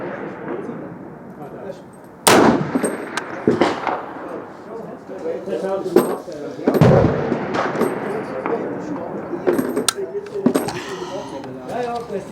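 M1 Carbine rifle shots fired at a 300 m target ring out as several sharp, loud cracks spaced seconds apart outdoors, with talking in between.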